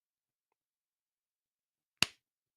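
One person claps once by hand during a livestream of a Toronto Maple Leafs vs. Buffalo Sabres hockey game: a single sharp, close crack with a quick decay, surrounded by near silence.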